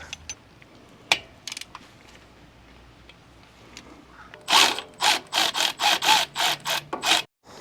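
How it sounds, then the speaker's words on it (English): Torque wrench tightening differential cover bolts to 30 foot-pounds in a crisscross pattern, a string of about nine loud, close ratcheting clicks in quick, even bursts after a few faint knocks. "So we got the torque wrench set to 30 foot-pounds. We're just going to kind of go in a crisscross pattern."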